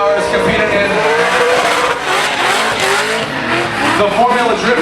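A Formula Drift car burns its tires during a drift show, the engine roaring loud and close with screeching tire squeal layered over a constant, dense rumble.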